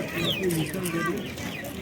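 Chickens and roosters cluck and squawk at a busy poultry bazaar, several birds calling close by in overlapping bursts while people talk nearby.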